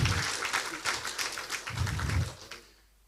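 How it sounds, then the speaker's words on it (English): Lecture hall audience at a leadership lecture in Nigeria gives a round of applause, dense clapping close and steady for about two and a half seconds, then fading out. "A big round of applause for him."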